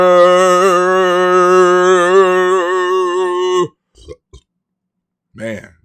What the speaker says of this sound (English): Man, that burp felt good.